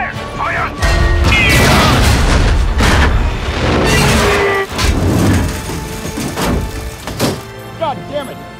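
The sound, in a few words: tank cannon firing at a Tiger tank, film Fury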